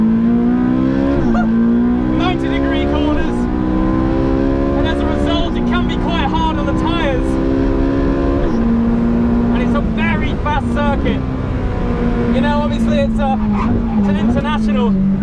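A Ferrari 458 Speciale screams around the tight corners of the Yas Marina circuit, its engine loud and close, rising through the gears with sharp shifts and lifts, while a voice talks over it.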